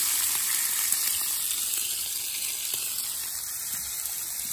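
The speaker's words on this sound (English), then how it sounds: "Got some bacon over here going." Bacon fries on a smoker grill beside burgers and peppers, giving a steady, close crackling sizzle that runs unbroken and fairly loud the whole time, with no talking.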